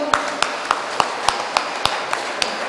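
An audience at a Brahmin community gathering in Hosur claps together in a steady, evenly spaced rhythm, sharp hand claps repeating about three times a second over a faint room murmur.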